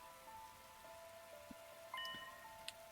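Steady, faint rain falls in the Hundred Line: Last Defense Academy game, a soft continuous hiss under sustained tonal music with a few light drop-like taps and no talking.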